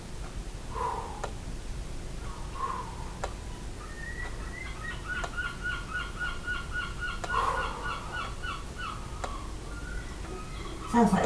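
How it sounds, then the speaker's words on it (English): Gulls call outside during an indoor exercise session, a series of faint, harsh honking and laughing cries scattered over steady background hiss, with a brief clatter near the end. "Sounds like the seagulls are laughing at me out there"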